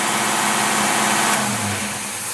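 A car engine fitted with a Holley two-barrel electric-choke carburetor, cruising at around 45 to 50 mph in direct drive, a steady mid-pitched drone that eases slightly toward the end.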